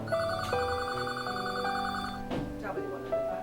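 A telephone rings continuously with a steady electronic tone through a jewelry auction broadcast, fairly faint, with a brief knock or clatter partway through.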